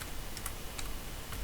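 Quiet computer keyboard typing: a few sparse, crisp key clicks spaced irregularly over a faint steady background hiss, with no voices.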